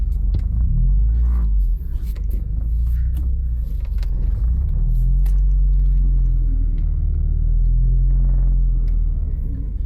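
A Porsche 944 engine idles with a deep, steady rumble as the car rolls and shifts between gears, close and loud, with no voices.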